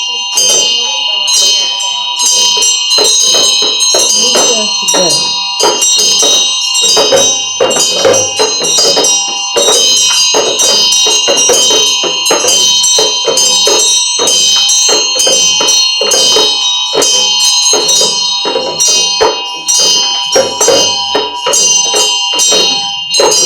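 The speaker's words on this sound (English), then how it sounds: "You have bell." A bell ringing continuously and loudly during a Chöd retreat, with dense repeated strikes and sustained ringing tones across the whole stretch, like a hand bell shaken steadily.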